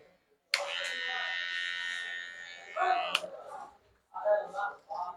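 Electric hair clipper trimming hair and beard, a steady buzzing hum held for about two and a half seconds, then shorter bursts as it works, with someone talking nearby.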